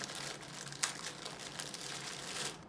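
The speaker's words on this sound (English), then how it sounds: "So I'm going to take them out of their plastic" Resistance bands are pulled out of their plastic packaging up close, a soft, continuous crinkling of plastic with one sharper rustle partway through.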